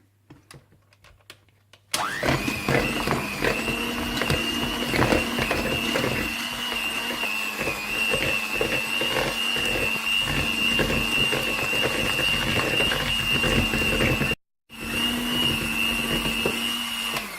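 Butter being beaten in a separate bowl for carrot cake with an electric mixer: a steady, loud, close motor whine that runs almost continuously, with one brief stop near the end before it starts again.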